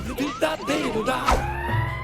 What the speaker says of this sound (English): You can hear the police car coming.